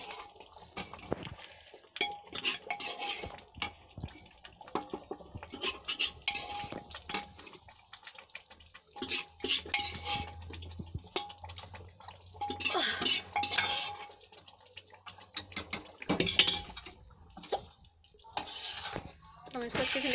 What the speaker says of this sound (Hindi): हम इसको अच्छे से मिक्स कर देंगे।